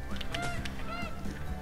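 A dodo bird squawks in the video game Ark: Survival Evolved, a continuous honking, goose-like cackle that stays loud and close across the whole moment with no talk over it.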